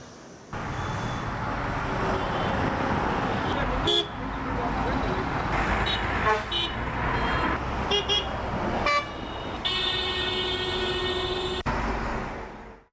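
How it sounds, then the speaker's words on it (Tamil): Dense, slow-moving road traffic on GST Road in Chennai, with car horns tooting repeatedly over a constant engine rumble and a long, loud honk near the end, all close by and continuous. "ஜிஎஸ்டி சாலையில் ஆமை வேகத்தில் வாகனங்கள் ஊர்ந்து சென்றன."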